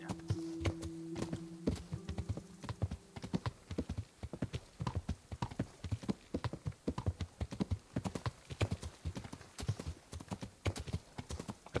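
Horse hooves clip-clop at a steady trotting rhythm throughout, close and continuous, in the medieval role-playing game Kingdom Come: Deliverance, with a low tone briefly at the start and no talking.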